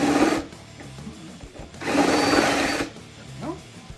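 A power drill bores into metal in two bursts while fitting GenRight rock sliders to a diesel Jeep Rubicon, the near whine rising and stopping abruptly, with a voice briefly talking between runs.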